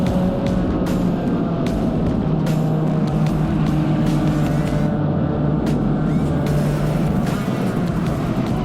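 An SRF3 race car drones steadily at Hallett circuit, a constant loud engine hum heard from inside or near the car, with a few sharp clicks and shifts in tone over the racing run.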